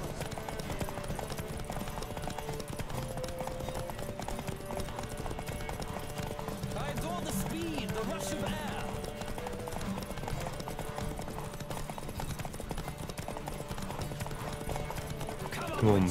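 Steady clip-clop of galloping hooves in a Witcher 3 horse race runs throughout with a busy game-like backdrop, a brief whinny partway through, and voices talking over it.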